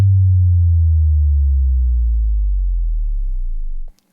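Synthesized bass drop made as a sine sweep falling from 101 Hz to 20 Hz, a loud smooth deep tone gliding steadily downward for about four seconds before cutting off, with no voice.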